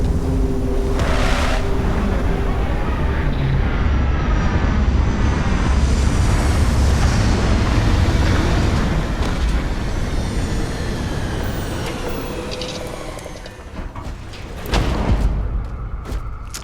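A spaceship touches down in the video game Starfield, a loud, sustained rumbling roar that swells and churns for several seconds, eases off, then bursts up again briefly near the end.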